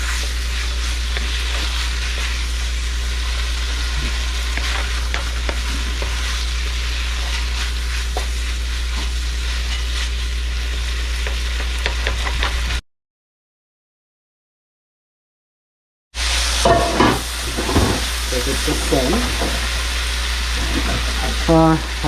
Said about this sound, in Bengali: এটা একটুখানি স্টিয়ার করে নিই।